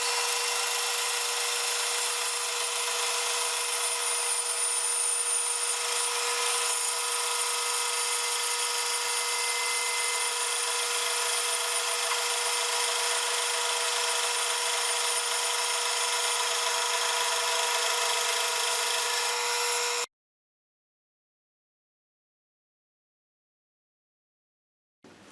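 A saw slicing thin veneer from a poplar board, a loud, steady, continuous cutting whine with a constant pitch for about twenty seconds, then stopping abruptly into silence.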